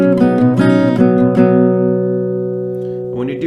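Close acoustic guitar plays short downstroke strums with melody notes, four quick rhythmic hits before a chord rings out and decays, a new strum starting at the end.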